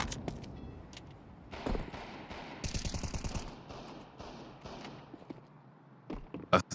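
Pistol fire rings out in a Counter-Strike match, with scattered single shots and a quick rapid burst of repeated cracks in the middle. The shots are fairly quiet and sit against a low in-game background.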